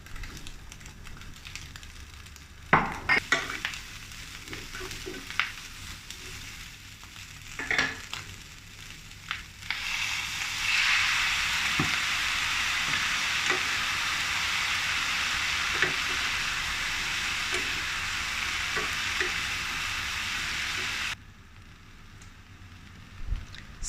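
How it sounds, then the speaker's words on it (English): Steady loud sizzling of green beans being stir-fried in a hot pan with garlic and dried shrimp, with a few clanks of a utensil before the sizzle swells and runs continuously, then cuts off. "Add the green beans and continue stir frying."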